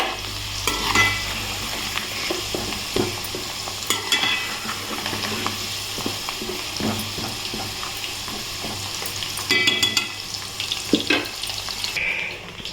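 Indian gooseberries (amla) cook in a pan for pickle with a steady, close sizzle and frying hiss, broken by repeated scraping and clinking as a spoon stirs them.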